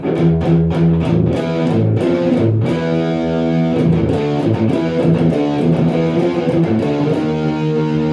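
A heavily distorted electric guitar plays a thick, fuzzy chord riff, loud and continuous with no voices.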